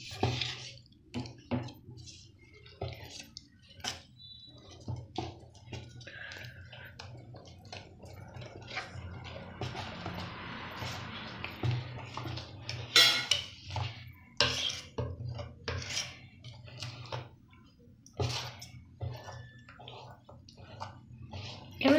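Adai dosa batter is mixed by hand with grated vegetables and chopped big onion in a bowl, giving soft, wet squelching and scattered clinks against the vessel over a low steady hum, close and fairly quiet.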